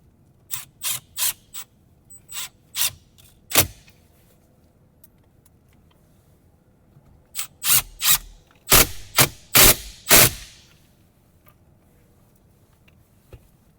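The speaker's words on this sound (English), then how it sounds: "And then we can tighten the two T20 screws that we removed." T20 Torx screws being tightened on a BMW 3/4 Series F30/F32 display screen, heard as close, sharp ratcheting clicks in two bursts, a quick run early and a louder cluster later, with quiet gaps between.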